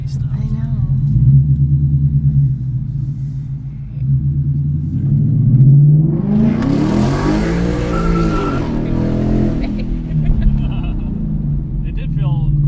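A 2024 Mustang GT S650 with an X-pipe and muffler delete rumbles at idle, then surges through a loud rising rev that peaks and falls away, a deep throaty exhaust heard up close with people talking over it.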